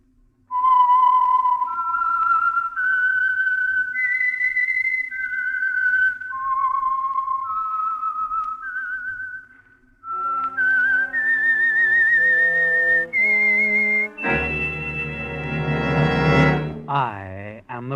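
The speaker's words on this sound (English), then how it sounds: "the signal to listen for is this whistle that identifies the Signal Oil program" A melodic whistled theme for the Signal Oil radio program The Whistler, a clear solo whistle rising through a slow tune, then joined by a brief orchestral swell and closing flourish.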